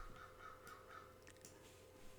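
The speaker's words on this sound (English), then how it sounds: "Oh yeah, and I even got crows demanding food." Crows caw faintly outdoors in a few repeated calls over a steady background hum, distant and muffled.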